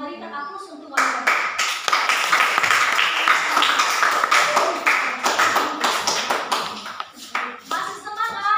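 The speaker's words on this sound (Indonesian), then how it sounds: "kita berikan aplaus untuk mereka" Classroom applause from students, a sustained burst of clapping from many hands lasting several seconds, loud and close, thinning into scattered claps at the end, with a brief voice before it starts.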